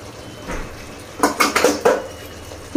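Metal spoon clatters against a pot while mutton pieces are mixed with chili powder, salt and coriander powder, a quick run of four or five clinking scrapes after a quiet start, fairly close.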